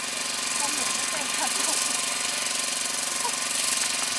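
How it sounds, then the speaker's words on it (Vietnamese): A farm machine engine starts and runs at a field, a loud, steady mechanical chugging with a rapid knocking pulse throughout and faint bird-like chirps over the top. "Xem chị kia đang chuẩn bị nổ máy đấy. Đó, ok, nổ máy rồi."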